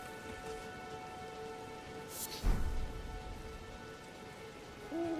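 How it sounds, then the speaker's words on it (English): Steady rain falling in a video game, a soft continuous patter with a sharp louder crash midway, then the downpour carrying on at a moderate level with no talk. "Oh, it's raining."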